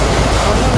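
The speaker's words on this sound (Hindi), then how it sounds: "लहरों की आवाज़ आ रही है" Sea waves washing at Saga beach at night, a brief broadband wash of surf mixed with wind noise on the microphone.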